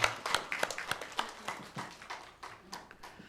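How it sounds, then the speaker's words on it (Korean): A church congregation claps during a Sunday worship service. The claps come as faint, distinct strikes in a loose, repeating rhythm, heard from a distance. "하나님께 영광의 박수를 올려드리겠습니다."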